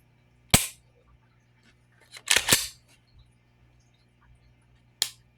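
A Puma P9X19 pistol dry-fired, giving sharp isolated clicks of the trigger breaking and resetting: one crisp snap, a tight cluster of two or three, then another single click, close up in a quiet room.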